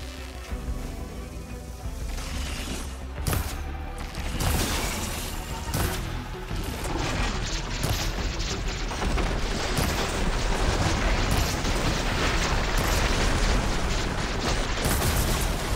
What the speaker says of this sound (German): Ich feuer in die Tonacht ein paar Schüsse aus der Balliste.